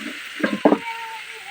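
Cauliflower hits hot oil in a pan with tomatoes and chilli, giving two short bursts of frying and stirring scrapes followed by a faint, fading sizzle, close up and without speech.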